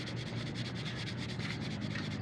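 Steady, continuous scratchy rubbing of 1000-grit sandpaper against a plastic Toyota Lite Ace headlight lens, close up and even in level with no pauses.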